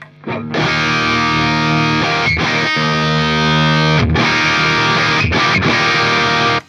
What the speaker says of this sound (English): It's pretty distorted, pretty overdriven.